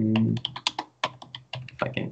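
Computer keyboard typing in short irregular bursts of clicking keystrokes, close and clear, with a brief voice at the very start.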